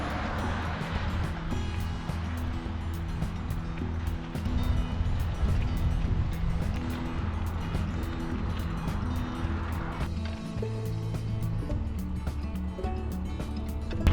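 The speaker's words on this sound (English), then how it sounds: "So many cars." Cars pass steadily on a highway near Bonner, heard from a bikepacking route between Gold Creek and Missoula: a continuous, fairly loud traffic roar with low engine hum that swells and eases as vehicles go by.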